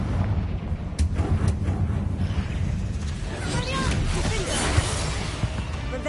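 A Confringo blasting spell goes off in Hogwarts Legacy, a sharp crack followed by a rumbling, shattering burst amid game ambience, with a voice speaking alongside.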